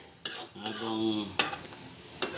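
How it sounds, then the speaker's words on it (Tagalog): Pork meat being stirred in a metal pan with a perforated utensil while cooking spaghetti sauce, a few close clanks and scrapes of metal on the pan with a faint sizzle underneath. "sinasangkot yung ganito yung karne"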